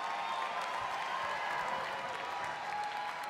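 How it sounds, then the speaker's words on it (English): An audience at a music prize gala claps steadily, a dense, even wash of applause throughout with faint crowd murmur underneath. "Feel free to applaud."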